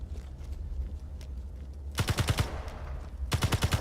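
Two quick bursts of rapid automatic gunfire in Space Engineers, each a tight string of about six sharp shots, follow a quiet ambient stretch and sound close and loud.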